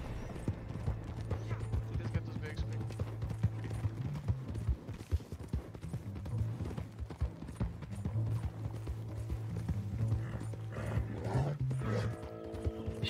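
A horse gallops in the Red Dead Redemption 2 online game with a rapid, steady clip-clop of hooves that runs through the whole stretch, while players talk over it.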